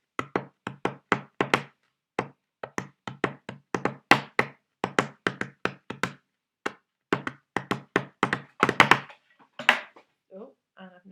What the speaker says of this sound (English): I've now knocked everything off my desk